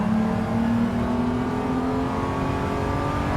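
Race car engine in Gran Turismo 7 revving hard under acceleration, a loud, steady close-up roar with a rising harmonic whine held throughout, no voices.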